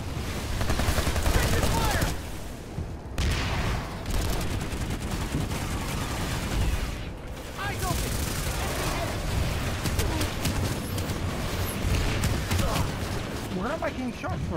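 Dense rapid gunfire in a mountain shooter game, Rise of Pumpkin heads, crackling loud and continuous with brief gaps, with a voice talking over parts of it.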